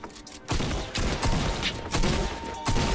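A pump shotgun fires in Fortnite, several loud, dense blasts about a second apart, each a broad burst that rings on until the next shot.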